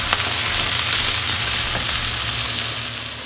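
Chopped onion sizzles loudly in a hot pan for a fish masala, a dense, steady frying hiss heard close up with no talking.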